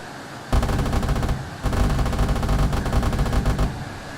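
Automatic cannon fire from a TO-199 Neophon jet making a firing run in the video game Arma 3: two long, loud, rapid bursts, the second longer, with a brief pause between them and engine roar underneath.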